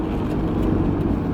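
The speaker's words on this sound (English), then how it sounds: "when the windows are down, you hear that engine noise" A Honda S2000 convertible drives with the top and windows down, its engine a steady, close hum blended with wind and road rumble.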